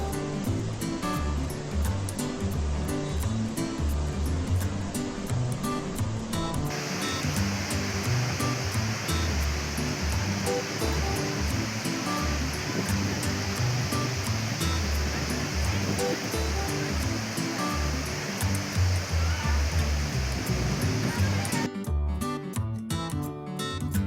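Water rushes continuously from the opened gates of a full reservoir dam, a loud, dense, unbroken roar with a hissing spray layer that holds steady throughout.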